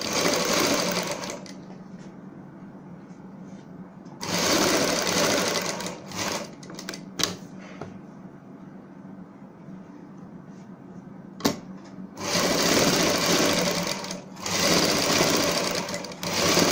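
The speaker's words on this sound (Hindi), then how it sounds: "बुकरम के ऊपर हमने इस तरीके से सिलाई लगानी है" A sewing machine runs in loud bursts while stitching a seam on buckram stiffener for a neck design, with several pauses and quieter handling between runs and a long final burst.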